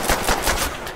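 Rapid bursts of gunfire in a Call of Duty Black Ops zombies game, about five loud close shots in a quick rhythm.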